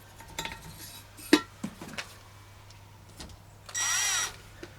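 Gritty scraping and clinks as a truck engine part is ground in with paste, a few sharp taps followed by a short steady rasping grind near the end.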